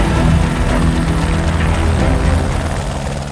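A helicopter hovers close by while lifting small gantry parts of 500 to 600 kg for work on a viaduct, its loud rotor thump and engine roar continuous and heavy throughout.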